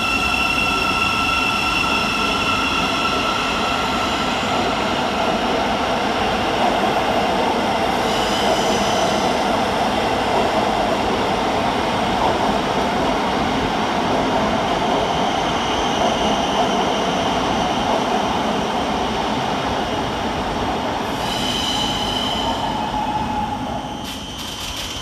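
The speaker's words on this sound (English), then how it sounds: "Up next for departure is 700 129, working the 10:51 to be a Thameslink service from Brighton to Bedford." A Thameslink Class 700 electric train moves through London St Pancras station with a sustained rolling rumble and steady motor whine, faint wheel squeals near the end, and no talk.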